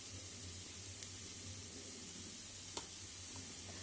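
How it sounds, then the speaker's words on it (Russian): Broth simmers in a pot for a Polish soup, giving off a steady hissing bubble at low level with a couple of faint clinks over it. "И бульончик у нас кипит."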